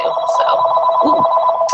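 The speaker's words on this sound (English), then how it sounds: "I apologize for that phone ringing." An office telephone rings close by, with a continuous electronic trill that holds steady throughout and a brief voice breaking in partway through.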